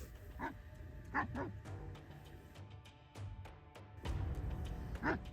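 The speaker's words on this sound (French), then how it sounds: "Les aboiements durent environ une dizaine de minutes." A stray dog barks repeatedly in the distance at night in the Sahara, a few spaced yips and barks over a low steady background hum.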